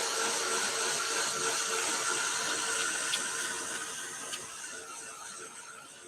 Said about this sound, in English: We're going to get my dryer